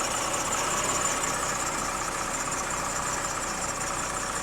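A car engine idles steadily and evenly at close range with no voices. The car is from a Copart auction lot, has a weak battery and may be low on coolant.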